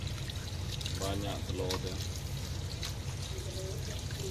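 Water pours and trickles steadily while river prawns are washed, a continuous splashing stream with a person talking over it.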